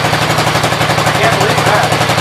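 An old Gravely 810 tractor engine runs on stale fuel, a loud, steady, rapid pulsing chug of firing close by.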